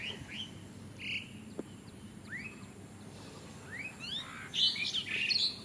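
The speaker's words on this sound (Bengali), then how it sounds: "পাখি ডাকতেছে, শালিক পাখি।" Myna birds call in a rural yard near mango trees, several short rising chirps and whistles spread across the moment, fairly faint over a low background hum, growing busier toward the end.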